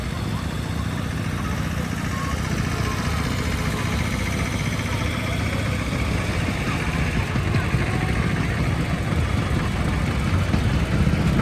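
An old tractor engine runs with a steady low, rumbling chug that stays dense and constant throughout, heard close in an outdoor setting.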